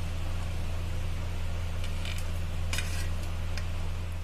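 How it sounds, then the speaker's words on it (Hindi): Vegetables going into white sauce in a pan for pasta, heard as a steady low sizzle with a few clinks and scraping stirs against the pan over a constant background hum. "अब मैं इसमें सब्जी डाल रही हूँ।"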